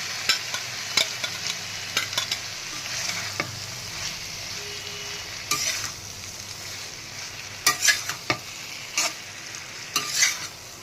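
Pointed gourd goes into spiced potatoes frying in oil in a pan, with a steady soft sizzle and intermittent clinks and scrapes of a spoon stirring against the pan.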